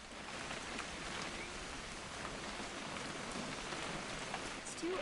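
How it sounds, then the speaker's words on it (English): Steady rainfall in the video game What Remains of Edith Finch, a constant soft hiss of drops on surfaces that holds evenly throughout with no voices. "It's gonna rain the whole weekend, isn't it?"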